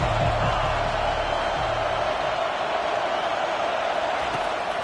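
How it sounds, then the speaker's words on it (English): A college football stadium crowd in a video game roars in a steady, sustained wash of noise, with no distinct cheers standing out. "This crowd bringing the energy and noise early."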